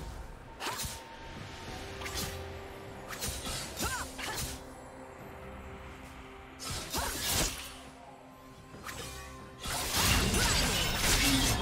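A turret is destroyed during a top-lane Fiora versus Yone match in League of Legends: several sharp crashing impacts and swishing effects burst out over a steady, busy bed of game sound, with no talk.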